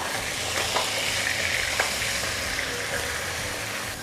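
Onions frying in a pot for a turkey vegetable stew give a steady, close sizzle throughout, with a couple of brief stirring clinks rising over the dense crackle.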